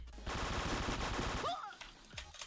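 Rapid burst of automatic gunfire from a fast-firing video game weapon, loud and dense for about a second before trailing off as a voice speaks over it.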